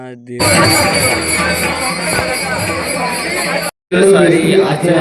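Crowd of devotees packed together at the Kunkeshwar temple festival, a loud, steady murmur of many voices close around with occasional clinks, cut briefly by a gap near the end before the babble resumes.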